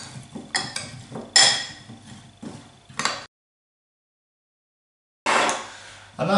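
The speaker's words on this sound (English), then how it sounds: "we'll give those a good stir, just to make sure everything's coated" Seasoned chicken pieces are stirred in a bowl, giving a close series of clattery scrapes and light clinks. The stirring stops for a couple of seconds of silence, then starts again.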